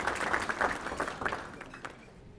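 Applause for a school board president at a Rotary career and technical education awards event, a brief patter of clapping from a small audience that fades out within a couple of seconds.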